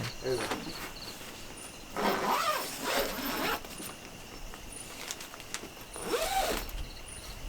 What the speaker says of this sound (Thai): พี่รูดซิปหน่อย